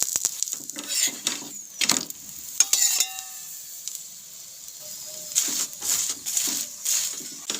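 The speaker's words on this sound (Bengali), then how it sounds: "পরোটাগুলো সেঁকে নিয়ে এখন সাদা তেল দিয়ে ফ্রাই করে নেব" Bursts of sizzling rice bran oil come and go with scraping and clinking of a pan and utensils as mixed-vegetable parathas fry on a stove.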